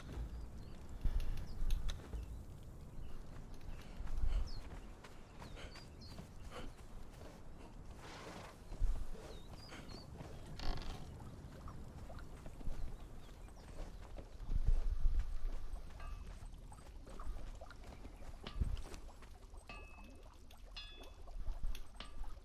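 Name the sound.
horse hooves clip-clopping in Conan Exiles video game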